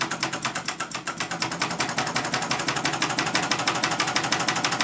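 A radial four-piston magnet engine spinning at higher RPM, giving a fast, steady mechanical clatter with evenly spaced rapid beats that quicken slightly, close and clear with no talking.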